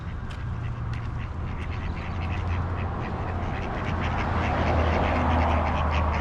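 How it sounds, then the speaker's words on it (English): Ducks at a pond on the Montana State University campus in Bozeman, Montana, quacking repeatedly in scattered bursts over steady outdoor background noise, fairly close and clear. "Here's the duck pond."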